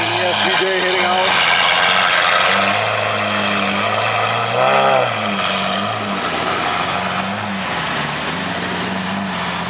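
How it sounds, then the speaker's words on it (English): An SVJ sports car pulls out of a parking lot with a loud, steady engine drone that swells briefly in a rev midway, then settles as it moves off. "SVJ heading out."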